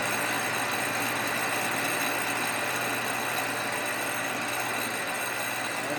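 A slip roll machine for bending stainless sheet runs at a good speed, giving a constant mechanical whir and hum that stays even and close throughout, with no voices.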